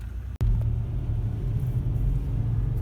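A Land Rover Discovery 3 drives along with a steady low engine and road rumble from inside the cabin. A brief dropout comes near the start, then the drone holds evenly and fairly loud throughout.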